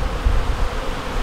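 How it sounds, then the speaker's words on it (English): A swarm of bees buzzing loudly around an opened bee tree hive, a dense continuous drone up close with no pauses or speech. "there's a bunch of bees"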